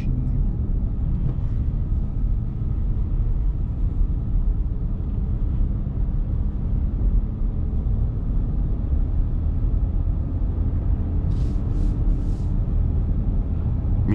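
Ford Ranger V6 2024 Limited engine heard from inside the cabin while accelerating and shifting gear, a steady low rumble and road drone with no distinct gear change standing out.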